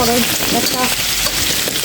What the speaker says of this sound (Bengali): আলুটাও কিন্তু খুব সুন্দর করে ভাজা হচ্ছে